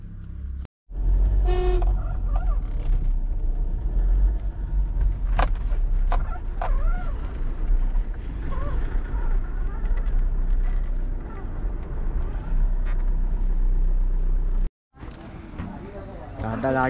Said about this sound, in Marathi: तर आता आपण गाडी काढतोय